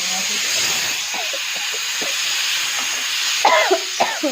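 A few short coughs near the end, sharp and close, over a steady hissing background like a pressure cooker or steam.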